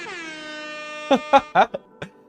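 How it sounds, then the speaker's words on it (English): A loud, sustained air horn blast, followed by a few short bursts of talking. "That was supposed to be changing scene, not hitting the air horn."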